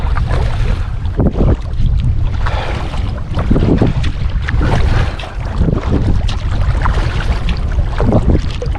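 A paddled boat heading straight into the wind, with loud, continuous wind buffeting and rumble close to the microphone and faint water swishes from the strokes beneath it.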